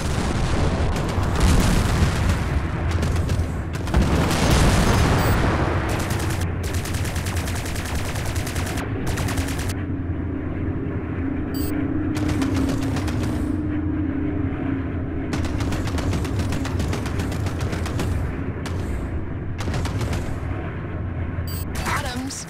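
Rapid bursts of plasma cannon fire and booming explosions from space combat in Strike Suit Zero, loud and continuous with choppy gaps, with a voice talking over parts of it.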